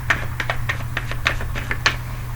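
Tarot cards being handled and shuffled, a quick series of about a dozen crisp, close taps and flicks over a low steady hum, no voices.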